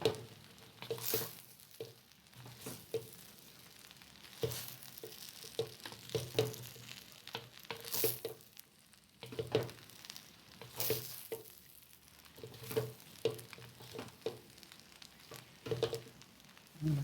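Seafood bihon noodles being stirred and fried in a large wok: a steady soft sizzle broken by regular scraping and tossing strokes of the spatula, near and moderately quiet, with no talk.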